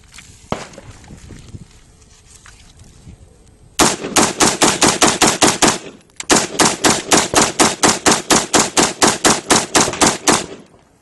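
Bursts of M16A4 rifle fire in the desert: a quiet lead-in with faint handling noises, then a loud rapid string of sharp shots, a brief pause, and a second long evenly spaced volley of close, crisp reports.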